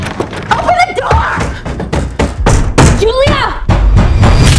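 Loud, rapid knocking and thuds against a door, repeated in bursts over several seconds, mixed with shouting and raised voices close by.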